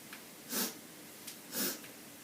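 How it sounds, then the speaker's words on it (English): Two distinct sniffing inhalations, about a second apart, taken close to the microphone during a three-part yoga breath in a senior home workout session, with quiet pauses between them and no talking. "Hopefully you can hear me sort of sniffing"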